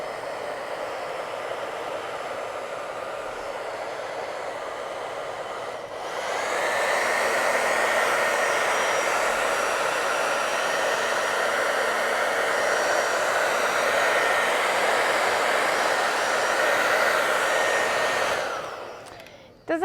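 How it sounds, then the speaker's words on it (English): A hairdryer blows on wet paint, starting softer for about six seconds, then switching to a louder, steady whooshing roar with a faint whine that holds until it cuts off near the end. "And now do the hairdryer."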